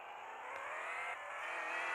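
A car engine in a driving video game makes a steady, smooth, fairly quiet whine that rises slightly as it revs, with no talk over it.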